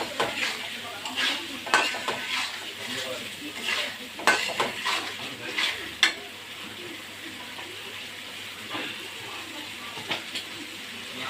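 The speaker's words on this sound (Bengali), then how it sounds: "পাঁচ থেকে 6 মিনিট ভালো করে কষে নেবেন।" Shrimp and taro stolons fry with spices in a pan while being stirred, giving a low sizzle broken by irregular scrapes and clinks of the utensil against the pan, with no voice.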